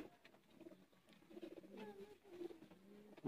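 Faint, low cooing from Sialkoti pigeons kept for sale, soft murmuring calls repeating over about three seconds with no voices.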